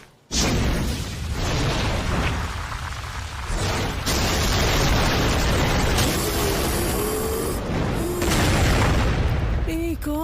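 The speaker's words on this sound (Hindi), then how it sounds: "एक और विस्फोट।" Explosion in a Hindi-dubbed anime: a sudden loud boom followed by a sustained dense roar and rumble of debris and blast noise, close and continuous, with brief effect sounds near the end.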